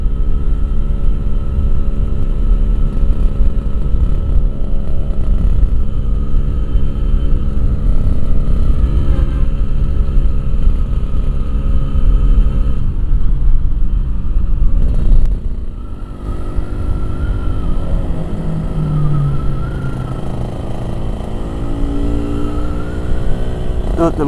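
An RX King motorcycle engine idles steadily with a deep, continuous rumble and a slight rise in pitch partway through, close by and without speech.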